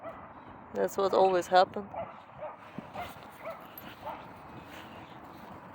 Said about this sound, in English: A little bit of fighting in the dog park.